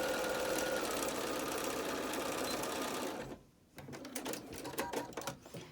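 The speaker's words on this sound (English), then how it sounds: "We're stitching on the fold of the outer fabric." Sewing machine stitching along the fold of outer fabric on a fitted face mask: a loud, continuous fast whirring run of needle strokes for about three seconds, then a brief pause and a few shorter, choppier bursts.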